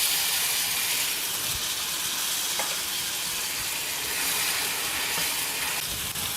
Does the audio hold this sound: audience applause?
no